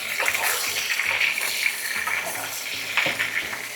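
Pork belly frying in hot oil with green onion and ginger just added, a steady loud sizzle and crackle with brief stirring scrapes.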